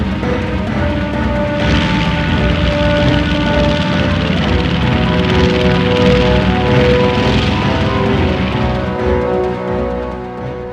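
World War II aircraft engines during the 1942 attack at Midway, a loud, steady droning roar of piston engines that swells through the middle and eases off toward the end.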